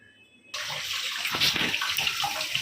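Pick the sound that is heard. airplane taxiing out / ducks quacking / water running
water running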